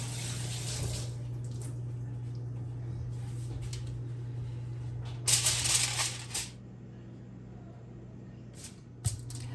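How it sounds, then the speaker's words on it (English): Hands washed under a running kitchen tap, a soft water flow with a low steady hum beneath and a louder burst of splashing partway through, no voices. "Wash my hands."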